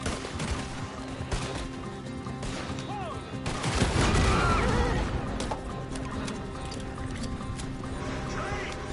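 Gunfire rings out in a Red Dead Redemption 2 shootout: scattered sharp shots pop over a busy, noisy game mix, with a denser burst near the middle and character voices talking over the action.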